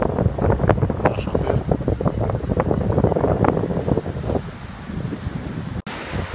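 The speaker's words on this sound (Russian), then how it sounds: "Ветер на улице сегодня" Steady wind rumbles across the microphone outdoors by the sea at Jomtien, Pattaya, Thailand, loud and continuous, easing slightly toward the end.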